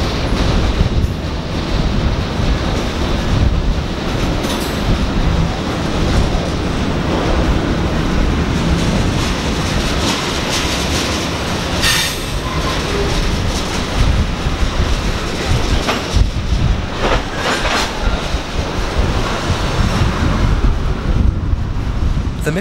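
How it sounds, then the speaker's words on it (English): A Canadian Pacific manifest freight train rumbles steadily into the historic Michigan Central Railway Tunnel near Windsor, Ontario, with clattering wheels and wind buffeting the microphone, a continuous loud roar throughout. "we watch as a Canadian Pacific General Manifest train enters the historic tunnel"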